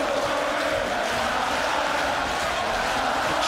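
A packed arena crowd at a British featherweight title boxing match keeps up a dense, sustained roar of chanting, loud and steady throughout with no clear individual voice.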